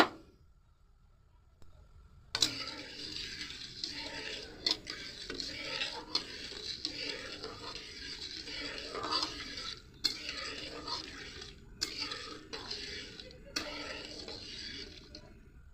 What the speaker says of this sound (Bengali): এরকম করে গুলিয়ে দিতে হবে মাঝে মাঝে একটু।